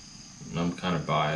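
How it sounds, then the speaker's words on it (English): Three short chirping bursts in quick succession, loud and close, like a crickets sound effect over a quiet background. "Crickets."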